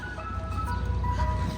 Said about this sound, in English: Here's the ice cream truck.